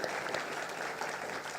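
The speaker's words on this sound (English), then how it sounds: "have one last round of applause from you" Audience at a conference applauding, dense continuous clapping from many hands at moderate level, steady throughout with no voices breaking through.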